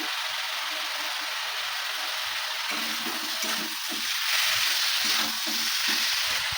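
Salt, turmeric and cumin hit hot oil in a pan, giving a steady, close hissing sizzle with bubbling crackle and a few soft stirring bumps throughout.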